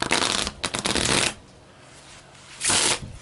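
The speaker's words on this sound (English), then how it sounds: "I put the thumbs together and riffle like that, and that usually gives the cards a good alignment" Playing cards riffle shuffled by hand, close and loud: a fast fluttering burst of about a second, a pause, then a second shorter riffle.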